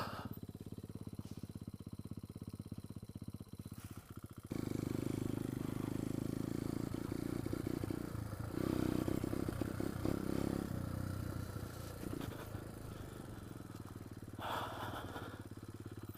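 A pit bike engine running in the woods, a steady rough putter that rises into louder revving midway, with clatter and a brief voice in the background.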